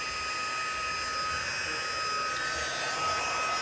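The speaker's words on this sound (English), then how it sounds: "So I've got my Stampin' Up heat gun." Stampin' Up heat gun running on level 2 while heating the bottom of a paper page, a steady, close, even blowing whirr with a high whine, sustained without a break.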